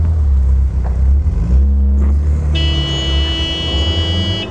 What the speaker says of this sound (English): Sound your alarm or your horn, because it's after 7 o'clock.